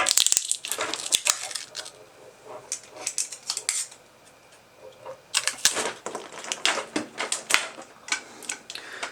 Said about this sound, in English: Tape it around a few times.